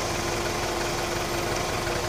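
Four-cylinder car engine idling with piston slap, a loud, close, continuous mechanical hum with a steady low knocking rhythm and no talk.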